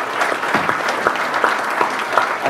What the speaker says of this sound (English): Let's give her a massive, massive round of applause.